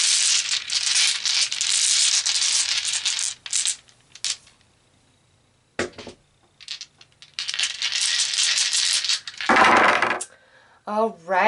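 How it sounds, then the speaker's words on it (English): Tarot dice being gathered and rolled, with bursts of bright clattering and rattling on a hard surface, several separate rolls with short pauses between them. "So let's pull some tarot dice."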